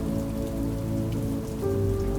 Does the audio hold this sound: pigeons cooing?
no